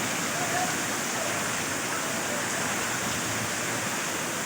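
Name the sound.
heavy rain in Kashmir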